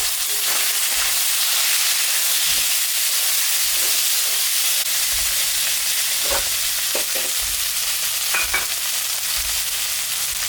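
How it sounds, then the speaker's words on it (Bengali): Tomato and carrot pieces fry in a pan after the onions, giving a loud continuous sizzle and hiss with occasional stirring clicks, no voices present. "এখন আমি টমেটো আর গাজর একটা দিয়েছি, এটা একটু ভাজা ভাজা করে দিলাম।"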